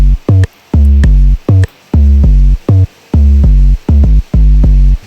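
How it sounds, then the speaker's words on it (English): A filtered 808 bass drop pulses in a choppy Moombahton-style rhythm of loud, short stabs with pitch slides, a dirty hi-hat ticking along, in a remix. "I combined this with just the drop 808, but then with a filter on it"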